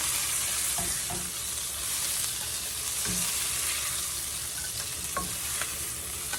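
Chicken meat sizzling and frying in a pan at a steady loud hiss, with scattered scraping and stirring knocks as pieces are lifted out onto a plate; no talking.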